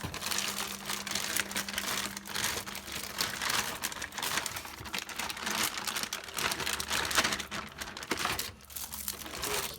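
Thin plastic goodie bags crinkle and rustle up close as they are handled and unpacked, a continuous busy crackle with no voices.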